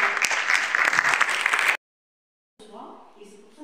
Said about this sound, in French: j'aimerais vraiment qu'on applaudisse ce jeune homme